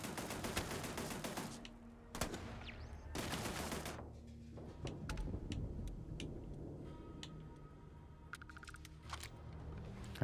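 Automated turrets in Starfield open fire in a hectic sci-fi shootout, loud rapid bursts of gunfire hammering close by, pausing and resuming, followed by scattered single shots and clanks.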